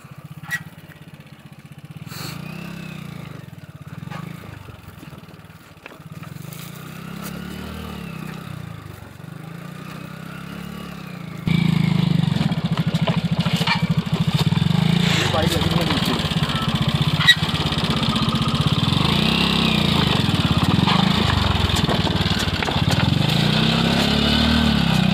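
A 125cc motorcycle is ridden off-road over large rocks, its engine rising and falling in repeated close revs with clattering, while voices talk over it.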